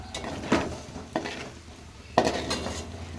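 Utensil scraping and clinking against a pan while chicken fry is mixed with chili powder and tomatoes, three sharper knocks over steady close stirring.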